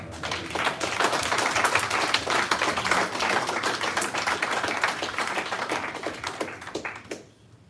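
Audience at a citizens' summit clapping in support of a resolution, a lively mix of distinct, close claps that holds steady and then tapers off near the end.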